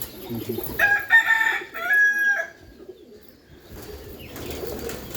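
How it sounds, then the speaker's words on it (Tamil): Keeri set pigeons in a loft give a few bursts of close bird calls over several seconds, with a murmur of other birds and loft noise around them. "அந்த இதில் நிற்குது பார்த்தீங்களா செவரில், அதெல்லாம் அந்த கீரி செட்டு புறாக்கள்"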